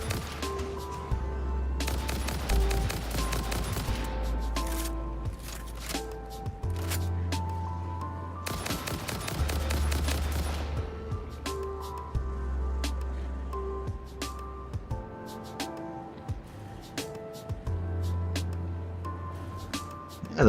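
Bursts of gunfire aimed at a creature in the factory-building game Satisfactory, set in a forest, with rapid shots in a few loud clusters separated by quieter stretches of clicks and ambient game sounds.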